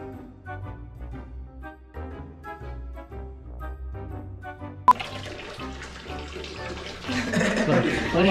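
Tap water running while hands are washed with detergent; quiet background sounds first, then a sharp click and the faucet's steady rush growing louder toward the end.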